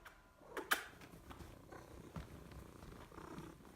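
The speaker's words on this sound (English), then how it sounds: "I'm sat here this morning with my cat, Newty." A domestic cat purrs softly and steadily at close range, a low continuous rumble with a brief faint tap near the start and no talking.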